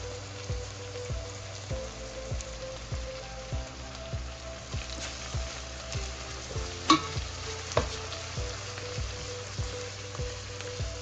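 Onions searing in a hot pan while a spatula stirs them, giving a steady close sizzle broken by regular scraping strokes roughly every half second, with no talk.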